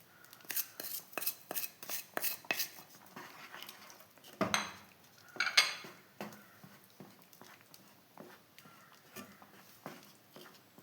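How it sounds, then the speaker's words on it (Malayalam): Semolina kesari being stirred and mashed in a pan, giving a run of quick, close scraping and tapping strokes of a utensil against metal in an uneven rhythm, with a louder clatter partway through and no talking. "നല്ലവണ്ണം ഇളക്കി കൊടുക്കുക കട്ടയിൽ ഉടച്ചുടച്ചുടച്ചുടച്ച് വരിക"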